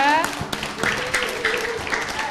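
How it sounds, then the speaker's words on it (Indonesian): An audience at an Indonesian religious talk about the virtues of fasting gives a short burst of applause, scattered claps fading fairly quickly, with faint voices underneath. "coba tepuk tangan ya"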